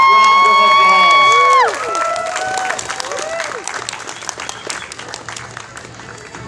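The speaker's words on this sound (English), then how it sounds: "Give them a warm round of applause." A Renaissance festival crowd bursts into applause after a sword-fighting bout, clapping steadily with scattered cheers and shouts, following loud whistling-like vocal cries at the start.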